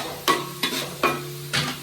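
Green chillies frying in hot oil, a low, close sizzle punctuated by four sharp scraping stirs of a spoon against the pan.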